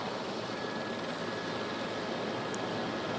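An aircraft landing hard on a runway with its tires burning, heard as a steady, broad roaring rush of engine and wind noise at a moderate distance, with no talk.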